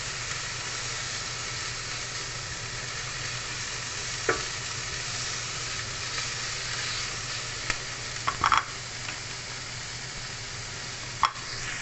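Pork sizzles steadily in a hot pan with a constant dense hiss, broken only by a few faint clinks and scrapes of a utensil, and no voices.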